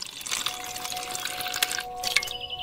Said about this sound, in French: Ajoutez de l'eau.